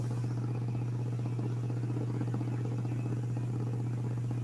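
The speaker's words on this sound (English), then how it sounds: "I have a fan blowing on my laptop to keep it" A small fan blows on a laptop, giving a steady low hum with a constant droning tone and airy whir, close and unbroken, with no talk.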